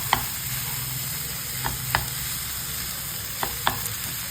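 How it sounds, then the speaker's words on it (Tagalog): Ground meat with vegetables sizzles in a frying pan while a utensil stirs it, with several sharp scraping clicks against the pan over a steady, fairly quiet frying hiss. "Siyempre, haluin."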